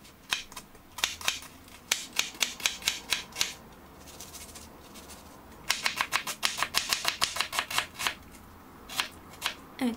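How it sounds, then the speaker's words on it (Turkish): Garlic cloves being grated in a home kitchen while preparing a garlicky chicken bulgur pilaf, heard as bursts of quick, crisp scraping strokes in two runs separated by a short pause, close and fairly loud with no talking. "Sarımsakları rendeleyelim."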